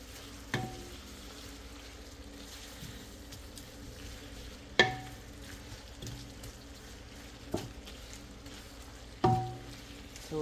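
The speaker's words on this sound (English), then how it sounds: "Alright, so the onion is frying there." Ring onions fry slowly over low heat in a pan for chicken biryani, giving a faint, steady sizzle broken by a few sharp knocks from stirring.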